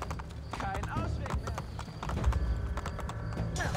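Hooves clip-clop from a horse in the video game Assassin's Creed Brotherhood, a rapid patter under steady game noise and a man's speech.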